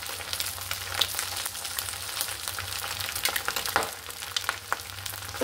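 Eggs and potatoes fry steadily in a pan, a continuous close sizzle with scattered crackles and pops and a few stirring scrapes, with no talking.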